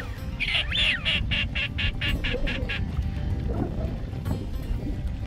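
Live decoy ducks, mostly pintails, quack in a flooded marsh: a rapid run of about ten loud, evenly spaced quacks close by, followed by quieter scattered calls over a rumbling outdoor background.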